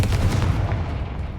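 A Confringo blasting spell fired in a Harry Potter video game, one sharp explosive burst that rumbles and decays over about a second, loud and close.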